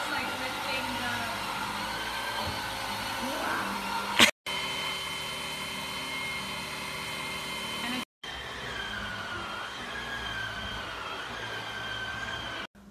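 A Hoover ONEPWR Cordless Blade+ cordless stick vacuum runs with a steady, close motor whine and airy rush, cutting out briefly twice before carrying on at an even level.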